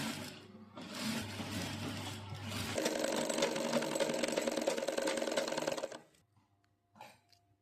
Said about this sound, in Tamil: கையை வந்து அட்டாச் பண்ணி ஓவர்லக் போட்டாச்சு